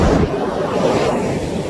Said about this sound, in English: just sitting on the beach is amazing